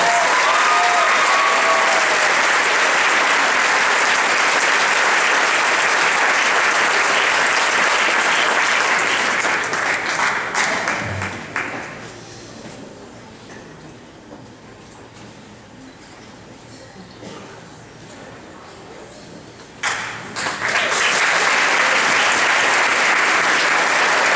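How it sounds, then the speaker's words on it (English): A graduation crowd applauds its students with loud, sustained clapping that fades to a quieter stretch midway, then surges back strongly near the end. "Another round of applause for all these wonderful students."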